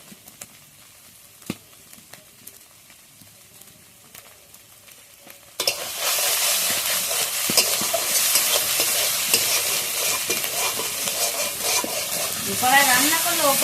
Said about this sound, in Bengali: টমেটোটা এইভাবে ভালোভাবে ভেজে নেবো। নাড়াচ্ছি, খুব জোর আছে।